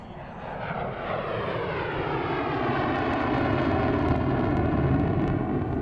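An F-16 fighter jet passes during an air show, heard as a steady, broad engine roar that swells slightly early on and then holds loud and unbroken, with a slowly shifting tone and no talk over it.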